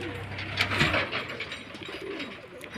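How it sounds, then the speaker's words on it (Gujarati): Pigeons cooing close by after being fed grain, with soft, low, repeated coos rolling over a muffled background. "કબૂતરને દાણા નાખી દીધા"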